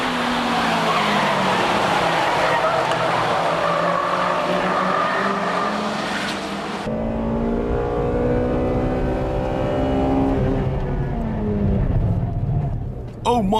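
A Honda Integra Type R with its VTEC engine racing hard on a circuit against 2-liter turbo cars, loud and sustained, with the engine note shifting as it takes a sharp corner, and a commentator talking over it.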